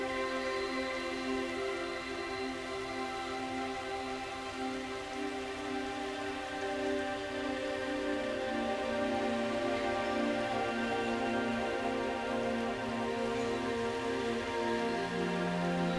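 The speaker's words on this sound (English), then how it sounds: "Rain is the lifeblood of every jungle" Steady jungle rainfall on the Caribbean island of Guarma in the video game Red Dead Redemption 2, with a constant hiss and patter, layered with droning tonal sounds, continuous and even with no voices.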